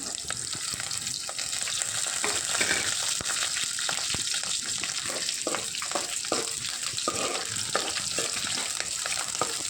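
Green chillies and onions fry in a pan for a chicken fry, a steady, close sizzle and crackle with occasional stirring scrapes throughout.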